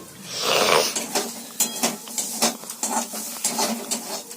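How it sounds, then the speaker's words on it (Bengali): Papad frying in hot oil in a home kitchen, a soft steady sizzle with repeated sharp clinks and scrapes of a utensil against the pan, close and moderately loud. "আর একটু পাঁপড় ভাজবো"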